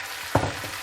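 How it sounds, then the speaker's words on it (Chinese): Marinated chicken thigh meat tossed into a hot wok and stir-fried for curry chicken rice: a steady frying sizzle with one sharp clatter of meat and spatula partway through. "然后继续翻炒。"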